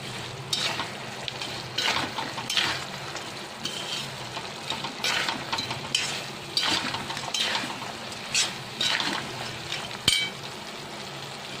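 Dry fruits being stirred quickly into sugar syrup in a pan for mewa pak, with steady scraping and clinking of a spoon against the pan and a soft sizzle, in repeated bursts.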